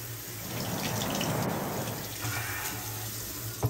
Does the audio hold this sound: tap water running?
yes